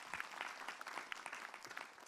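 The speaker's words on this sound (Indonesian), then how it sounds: "Tepuk tangan Bu Ustadz Maulana Bu." A congregation of women at an Islamic religious gathering gives a brief round of applause for Ustadz Muhammad Nur Maulana. The clapping is faint and distant, with scattered individual claps.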